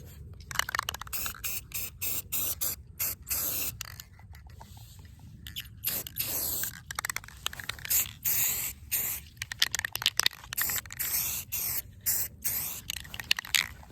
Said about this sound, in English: So I'm now ready to go ahead and do the spray paint.